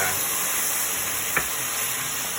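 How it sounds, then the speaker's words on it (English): Wine poured into a hot pan to deglaze it while cooking ropa vieja, giving a steady soft sizzle and steam hiss with one brief scrape partway through. "now we're going to add in our wine and deglaze the bottom of the pan"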